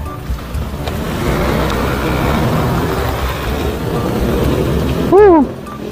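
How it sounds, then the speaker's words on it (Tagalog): Heavy rain drums steadily in a loud, dense wash for several seconds, then a short rising and falling tonal whine cuts in near the end. "Ganito kalakas yung ulan, ganito kalakas."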